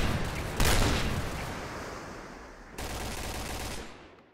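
Spraying gunfire in the shooter game Point Blank, a loud burst of automatic fire followed by a fading tail and a second sustained spray that cuts off near the end.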